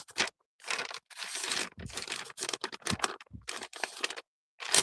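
Tarot cards being shuffled by hand, a run of crisp riffling and rustling bursts with short pauses between them, close and clear with no talking.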